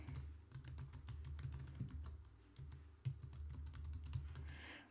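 Code being typed on a computer keyboard in a code editor, quick bursts of close, crisp key clicks in an uneven rhythm with brief pauses, and no talking over it.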